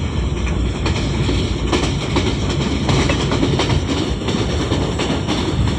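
The Sir Syed Express, hauled by locomotive GU 49031, cruises at 106 km/h, heard from inside as a loud steady rumble with rhythmic wheel clatter and no talking.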